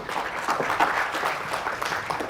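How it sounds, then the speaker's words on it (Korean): An audience at a water-management forum session in Chuncheon applauds to welcome a conference speaker, a moderate, fairly even patter of many hands heard at a slight distance for a couple of seconds. "박수로 맞이해 주십시오"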